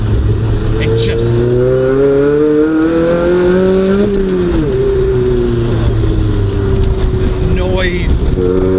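A rusty Toyota Levin's engine revs loudly from inside the car while driving on narrow country roads, pitch rising and falling through the gears, with a person talking over it.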